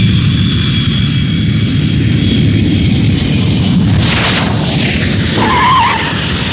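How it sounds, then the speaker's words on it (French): Airplane on final approach touching down on a runway at Narita airport, a loud, close roar of engines with a skidding screech of tires near the end. "Ça y est, l'appareil vient de se poser sur la piste C."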